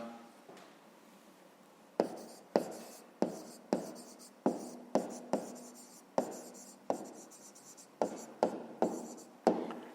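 Handwriting on paper while solving a grade 5 maths exercise, a series of close, sharp pen taps and scratchy strokes in irregular rhythm, quiet for the first two seconds, with no talk.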